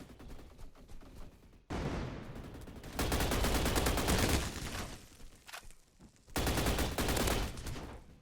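Gunfire in the Roblox first-person shooter Energy Assault: sustained bursts of rapid automatic shots in long loud stretches, broken by short pauses, with no talk over them.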